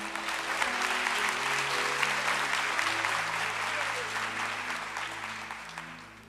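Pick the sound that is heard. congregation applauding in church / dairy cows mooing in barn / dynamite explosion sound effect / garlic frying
congregation applauding in church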